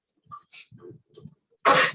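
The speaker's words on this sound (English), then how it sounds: "when I go into headstands, I sneeze a couple of times" A single sharp sneeze from a person practicing yoga headstands, a loud broadband burst near the end, preceded by quieter breathy throat sounds and soft movement.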